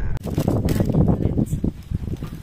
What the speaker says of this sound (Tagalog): Grabing hangin po. Sobrang hangin.